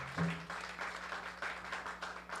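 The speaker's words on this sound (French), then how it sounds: "Acclamons pour le Seigneur." Steady applause from a church congregation at a men's day service, faint and distant, rolling on evenly for a couple of seconds with a low hum beneath.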